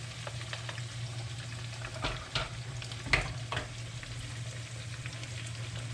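Tomato passata in a single pan of Italian sausage pizzaola, a soft steady frying hiss with a few brief spoon or pan knocks, quiet and close under a low hum.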